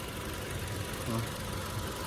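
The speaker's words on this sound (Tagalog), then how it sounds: "ganda ng timing ng makina" Toyota Fortuner SUV engine idling steadily at close range, a constant low rumble with no change in pitch over a couple of seconds, heard alone without speech.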